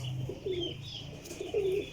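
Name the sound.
golden pigeon cooing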